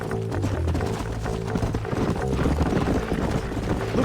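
Horse hooves gallop in the Red Dead Redemption video game, a quick, steady clip-clop that continues throughout over a low rumbling background.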